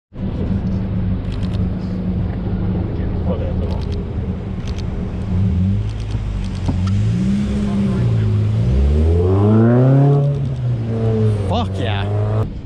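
A car, apparently a BMW i8 on a city street, revs and accelerates past, its engine note climbing and sweeping by close, while people chat nearby.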